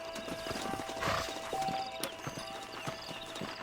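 Horse hooves clip-clop steadily with a whinny partway through, set in a canyon during a Western game with riders dismounting, heard clearly with little else around.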